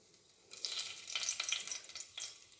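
Bay leaf dropped into hot oil, a sudden close burst of crackling sizzle that rises, holds and pulses briefly before easing slightly.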